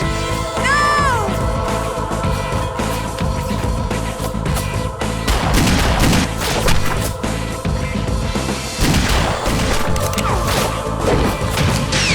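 Explosions in the Perfect Dark Zero video game, loud continuous blasts, crashes and thuds layered with gunfire and music, dense and unbroken throughout.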